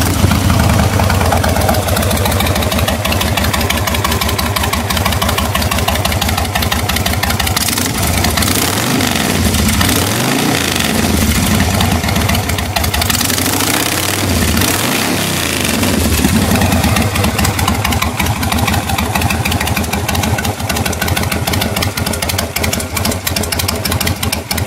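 A Suzuki Marauder 1600 motorcycle engine cranks up and then idles loudly and steadily up close, a deep continuous rumble with a few slight rises in revs and no talk.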